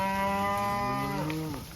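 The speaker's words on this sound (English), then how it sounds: "Today we're reversing the cow herd, going back the opposite direction they normally go." A single cow from a pasture-grazed cattle herd lets out one long, loud moo close by, falling in pitch toward the end.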